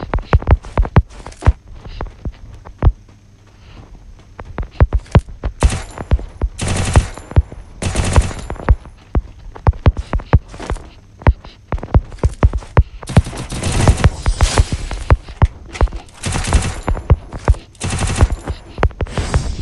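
Rapid bursts of automatic gunfire from a video game shooter, loud and close, with repeated sharp shots and short volleys through the whole stretch and no talking over them.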